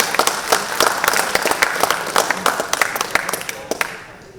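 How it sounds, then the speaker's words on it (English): Audience at a military memorial lecture and awards event for the Mysore Lancers applauds an officer: loud, crisp clapping from many hands, near and continuous, then tapering off at the end. "A big round of applause for him."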